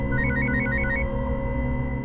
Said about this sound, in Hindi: सब बबीता का ही फोन आ रहा है।